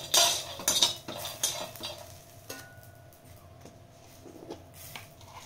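Spoon stirring chicken in a kadai, with several sharp metallic scrapes and clinks in the first two seconds, then fainter intermittent taps over a low background hum.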